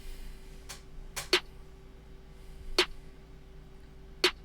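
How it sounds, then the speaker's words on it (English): An EQ'd snare in an opium-type beat, three sharp, evenly spaced hits landing on the third and seventh counts, quiet and dry against a faint hum. "It's just a simple snare hitting on the third and the seventh count of each bar"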